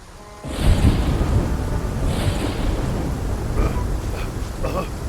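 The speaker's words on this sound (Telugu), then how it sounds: "వాన వేరే ఎక్కువ వస్తూ ఉంది." Heavy rain and rumbling thunder in an animated cartoon, a loud broadband roar that bursts in and holds steady with swells, with faint higher noises near the end.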